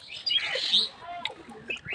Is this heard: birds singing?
yes